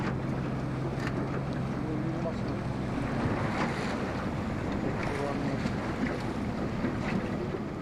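A boat motor drones steadily at sea off the Chukotka coast, mixed with strong wind buffeting and wash of waves, fairly loud and continuous with no clear speech.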